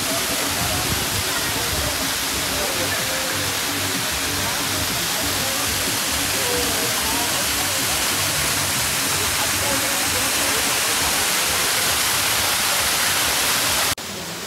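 Niasar waterfall pours with a loud, steady roar of rushing water that fills the whole clip at close range and cuts off abruptly at the very end.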